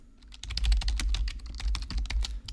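Rapid clicking keystrokes on a computer keyboard sound close and steady, with a quick irregular rhythm of many key presses and a soft low thump beneath them.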